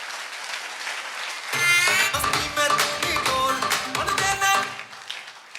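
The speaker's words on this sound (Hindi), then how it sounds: "जोरदार ताली होनी चाहिए सर के लिए।" After a quiet opening, applause erupts at a Safe Shop business meeting and carries on loud and steady, mixed with upbeat music.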